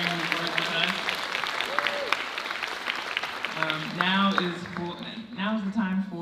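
Applause for a graduate at a 2024 graduation ceremony, steady clapping from the audience running underneath as people talk over it and voices grow louder toward the end.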